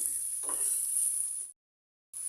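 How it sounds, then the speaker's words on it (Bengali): Carrots fry and get stirred in a pan for Chinese vegetable noodles, a steady high sizzle with a faint scrape of stirring, then a sudden cutoff into silence before the hiss returns. "গাজরগুলো দিয়ে আমি এক মিনিটের মতো ভেজে নিয়েছি"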